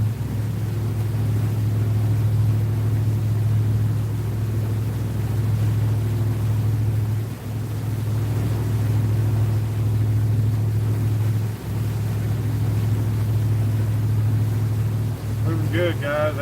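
Steady low drone of a boat engine idling along at about 1,200 RPM, running continuously and close by with a faint wash of water and wind, and a short voice near the end.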